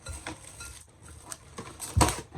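Cling film is stretched over a metal bowl of pumpkin bread dough, giving soft crinkles, light taps and one louder clink near the end.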